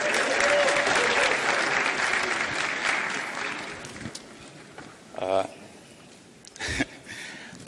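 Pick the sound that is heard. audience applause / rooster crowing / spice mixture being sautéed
audience applause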